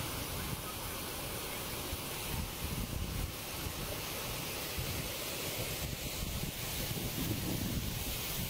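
Floodwater pours like a waterfall off a flooded road in Yongcheng, Henan, making a continuous broad rushing roar, steady and fairly distant, mixed with wind buffeting the microphone.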